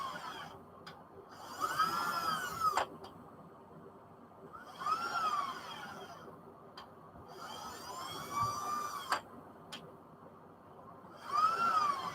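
A power drill drives into a small 440 build in bursts of whining, several seconds each, separated by short pauses, close and moderately loud with no talking.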